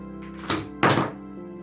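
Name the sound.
glass jar set down on a table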